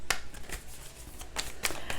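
Tarot cards being shuffled by hand, a series of quick crisp riffling snaps and flicks up close at an uneven rhythm.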